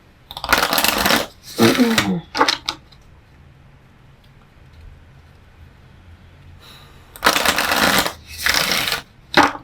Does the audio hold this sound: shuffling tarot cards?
yes